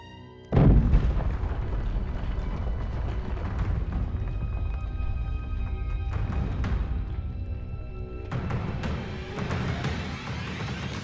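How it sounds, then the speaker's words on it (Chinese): A sudden heavy boom erupts from a gunpowder explosion in a research room, followed by a long, loud rumbling roar of debris and noise that swells again near the end. "研究房里发生了爆炸"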